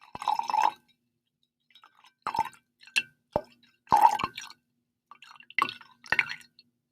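Liquid is poured into a mug to mimic urinating, heard as intermittent splashes and trickles in short bursts separated by silence, close and fairly quiet with no talking.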